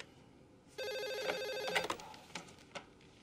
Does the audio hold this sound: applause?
no